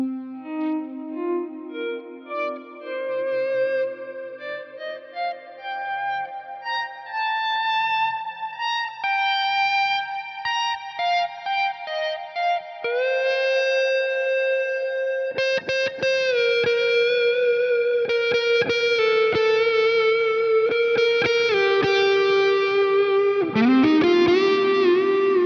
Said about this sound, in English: possibly my favorite ambient reverb ever is the standalone plex reverb in here. If you do some volume swells, this is just so satisfying